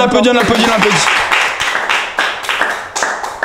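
An audience breaks into loud, close applause with dense, rapid clapping that holds steady throughout, while voices are heard over the opening moments.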